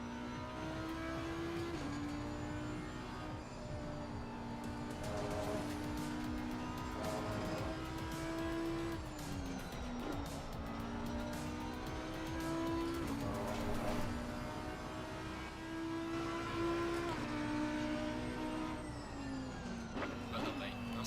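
Race car in Assetto Corsa Competizione loudly revving through gear changes as it oversteers, with a steady engine drone and tyre noise throughout.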